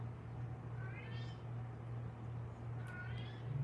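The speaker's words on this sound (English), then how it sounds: "can we all hear my cat?" A house cat meows and howls in a drawn-out, wavering cry, twice over a few seconds, faint and somewhat distant against a steady low electrical hum.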